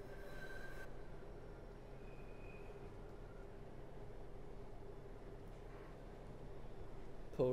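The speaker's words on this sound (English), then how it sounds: "And there's the train we were trailing the whole time." A London Underground Bakerloo Line train in the Train Sim World 3 game rumbles past as a steady, continuous rail roar with a brief high whine and a squeal near the end.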